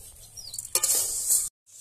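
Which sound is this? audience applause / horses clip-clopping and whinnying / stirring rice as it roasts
stirring rice as it roasts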